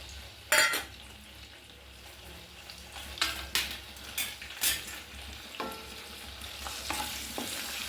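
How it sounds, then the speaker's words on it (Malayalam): Curry leaves frying in hot oil in a pan while cooking biriyani, a quiet steady sizzle broken by scraping stirs and light clinks of a utensil against the pan. "അടുത്തതായി നമുക്ക് വേപ്പില വറുക്കാം."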